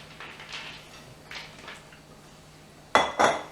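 Nuts coated in a mixture being scraped from a pan onto a baking sheet, two sharp metallic clinks and scrapes near the end after a quiet stretch with soft handling noises.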